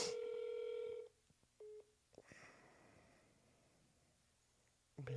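A phone rings loudly for about a second, followed by short electronic tones and a brief rustle. Near the end there is a quiet stretch before another tone.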